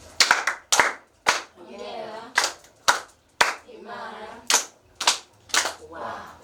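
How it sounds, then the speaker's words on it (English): A small workshop audience in an electronics engineering class claps in unison on a count, sharp loud rhythmic claps in short bursts of two or three, alternating with someone talking between them. "Clap your hand for him."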